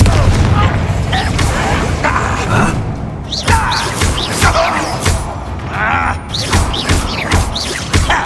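A Confringo blasting curse goes off in Hogwarts Legacy with booming, crashing impacts amid a magic duel, mixed with shouted spell calls and other voices throughout.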